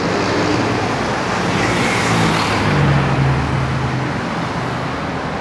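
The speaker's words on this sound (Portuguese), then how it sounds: "Vou esperar os carros passar aqui pra gente atravessar aqui." Steady stream of cars and other road traffic passing on a busy road by a viaduct in Manoa, a continuous loud roadway rumble with no talk.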